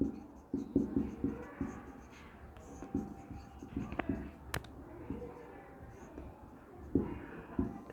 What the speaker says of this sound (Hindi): थोड़ा सा यहाँ पे सही लिख रहा हूं मैं